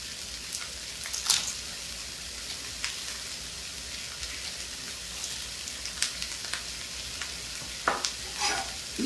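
Corn and onion cook in a hot pan with a continuous soft frying hiss, broken by scattered sharp crackles and pops, close and moderately loud with no talking.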